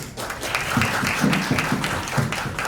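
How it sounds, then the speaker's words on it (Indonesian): Audience applause for alumni at ARTPHORIA 2026, a school arts event, a steady wash of clapping from a crowd sustained through the whole moment, with a few louder bursts. "Tepuk tangan untuk para alumni."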